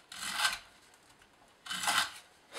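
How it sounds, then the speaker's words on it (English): Two short rasping strokes as a Spyderco Sage 2 folding knife with an S30V blade, sharpened to a shallow edge with a micro bevel, slices through rope, each cut a brief scratchy burst close by with quiet pauses between. "it's taking me no effort whatsoever to get through this rope"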